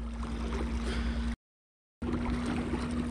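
A small Crescent 425 fishing boat runs on an electric motor at about 3.3 knots, giving a steady close-up whir with a constant tone under continuous water rush and gurgling. The sound cuts out briefly in the middle, then resumes.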